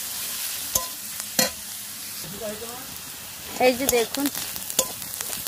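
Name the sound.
onion and green chili frying in oil in a pan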